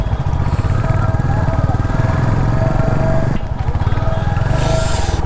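Royal Enfield Classic 350cc motorcycle engine idling with a steady low, loud thump close by, with a brief dip near the middle before it carries on.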